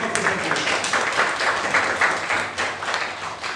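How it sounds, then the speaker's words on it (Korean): Audience applause for Korean politician Kim Han-kyu at a Democratic Party Jeju provincial chapter youth event, a steady dense wash of many hands clapping at moderate loudness throughout. "김한규 의원님께 큰 박수 부탁드립니다."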